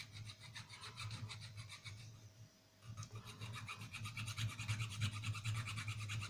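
Hand filing and rasping on a .999 tin pendant as its edge is beveled, rhythmic scraping strokes close to the listener, briefly pausing before resuming faster, with no speech.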